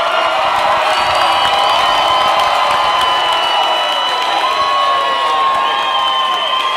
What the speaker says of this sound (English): Thunderous applause, so it's the thunder of applause.